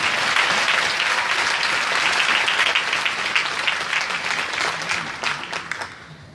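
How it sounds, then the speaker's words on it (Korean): A crowd at a 2018 Busan welfare rally applauds a mayoral candidate's introduction: sustained, close, bright clapping that thins and tapers off toward the end. "박수로 모시겠습니다"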